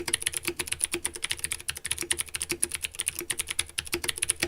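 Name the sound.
typing on EPOMAKER mechanical keyboard with clicky blue switches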